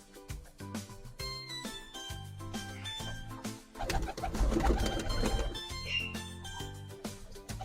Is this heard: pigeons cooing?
yes